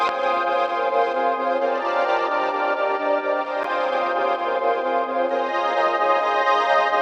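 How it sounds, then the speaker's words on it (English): Atmosphere pad synth preset in BandLab sustains rich, layered chords with a shimmering, chorus-like sheen, a steady wash of tone that holds evenly for about seven seconds with no talking. "I selected the atmosphere pad, which made my chords sound like this"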